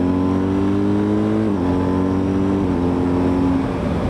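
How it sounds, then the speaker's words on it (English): A BMW R1250GS Adventure motorcycle engine downshifting off the throttle, a loud, close droning hum that drops in pitch in steps as gears change. "if I change down a gear now, off the throttle, more gravel"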